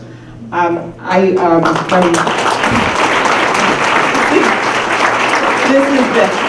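An audience at a Wellstone anniversary event in Iron Junction breaks into loud, sustained applause and clapping right after a voice finishes speaking, the clapping holding steady and full for several seconds.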